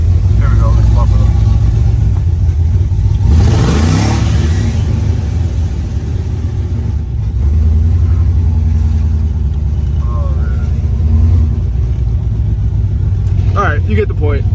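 A 1981 Chevrolet Corvette engine rumbles low and steady while driving through a downtown area, rising in a brief acceleration, heard from inside the car under ongoing talk.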